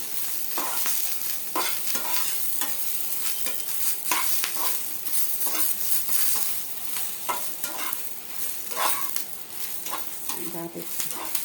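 Ingredients for tomato chutney are stirred and fried in a pan over a low flame, giving a steady close sizzle broken by repeated scraping strokes of the spoon.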